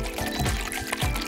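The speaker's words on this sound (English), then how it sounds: "I'll pour some linen conditioner into a bowl." Linen conditioner is poured into a bowl, producing a close, continuous liquid splashing and gurgling that lasts only a moment and stands alone without speech.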